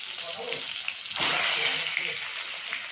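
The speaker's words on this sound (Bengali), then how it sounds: "এবারে বেগুনগুলো ওই কালো জিরে ফোড়নের মধ্যে বেগুনগুলো আমি দিয়ে দিলাম" Eggplant pieces dropped into hot oil tempered with nigella seeds, giving a steady close sizzle that jumps to a louder, fuller frying hiss partway through and keeps crackling after.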